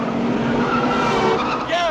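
Car speeding through a tunnel in a chase, engine roaring loud and close with tires squealing, while people talk over it.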